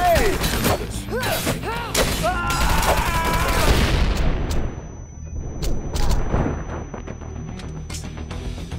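A grenade explodes amid gunfire in the shooter Wanted: Dead, with rapid shots and a heavy rolling blast that fades into quieter scattered shots and clicks, under shouted voices.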